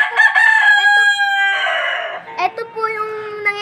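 A Black Australorp hen calling loudly and close up in a few drawn-out, strained clucks and squawks, followed by shorter broken cackles.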